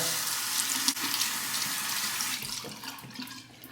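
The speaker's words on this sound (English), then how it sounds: "let's warm it up under the hot water" Hot tap water runs steadily over a silvertip badger shaving brush, a close, even splashing stream that thins slightly toward the end, with no voices.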